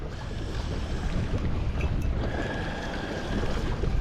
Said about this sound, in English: Boy, that wind is getting it, y'all.